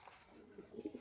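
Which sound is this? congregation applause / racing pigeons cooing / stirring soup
racing pigeons cooing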